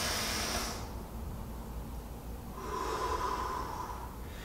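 A person takes a long, forceful breath out during slow, controlled breathing in a steel mace workout, a close, airy hiss that fades and then rises again as another breath follows.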